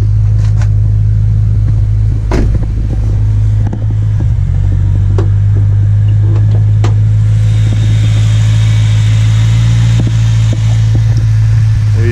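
A BMW E92 M3 V8 idles with the hood open, a loud, steady low engine hum with occasional clicks and knocks nearby, with no talk.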